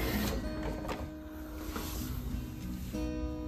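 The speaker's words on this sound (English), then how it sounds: "Pump primed." Ducati 999S fuel pump priming after the ignition is switched on, a faint steady electric whir and hum with a slight shift in tone near the end, no voices.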